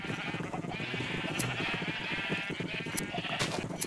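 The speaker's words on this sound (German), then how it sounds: "Ganz viele Schafe, die sich an mich rummeln." Sheep in the Minecraft video game bleat repeatedly and overlap with each other, a busy flock close by over a steady background hum.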